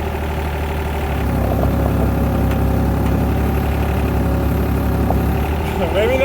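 A vehicle engine idles and runs steadily while it is being pulled on rough mountain land being cleared and graded, a close, continuous mid-low drone with people talking over it.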